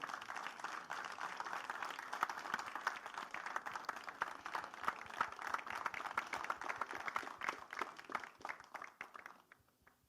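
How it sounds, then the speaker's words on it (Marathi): A hall audience at a Marathi film trailer launch breaks into sustained applause, a dense patter of many hands at moderate distance that holds steady and then thins out toward the end. "एकदा जोरदार टाळ्या झाल्या पाहिजेत."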